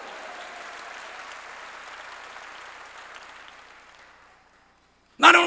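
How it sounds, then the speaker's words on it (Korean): A church congregation claps at a sermon, a dense wash of applause that fades out over several seconds, followed by a brief silence and then a sudden loud burst. "박수로 하나님께 영광 돌려가지고, 깨달은 사람만 박수 치라 이게야"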